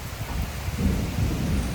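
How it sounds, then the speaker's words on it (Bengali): A heavy downpour roars steadily with deep rolling thunder rumbling beneath it, close and loud, with no voices. "বৃষ্টিটা শুধু দিচ্ছে দেখো আলাদা লেভেলের বৃষ্টি"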